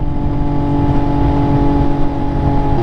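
Steady, loud road noise from a rider's position on an MV Agusta F3 motorcycle in Saturday traffic, with a continuous engine hum and the rush of passing vehicles and no talk.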